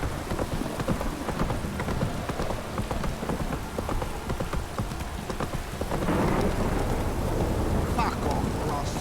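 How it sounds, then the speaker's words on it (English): Heavy rain pours steadily in The Witcher 3 with thunder rumbling throughout, the storm swelling louder after a few seconds, while hooves clop faintly and a voice murmurs briefly. "This downpour's a bastard,"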